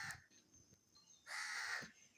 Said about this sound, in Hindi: कौआ भी काय काय कर रहा है।